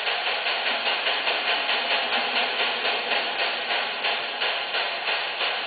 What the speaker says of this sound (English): Here we have a Cato diesel making the rounds.